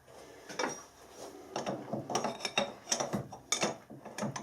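A metal lathe fitted with an ER40 collet setup being shifted into gear, giving a series of close mechanical clunks and ratcheting clicks in an irregular rhythm, fairly quiet.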